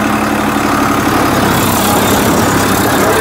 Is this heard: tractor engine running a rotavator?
yes